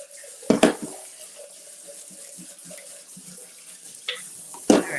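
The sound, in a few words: tap water rinsing fruit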